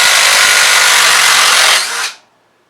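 DeWalt 887 power tool running flat out, a loud, close, high whirring burst lasting under two seconds before it cuts off sharply and winds down into silence.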